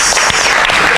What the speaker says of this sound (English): let us give you a round of applause for all you did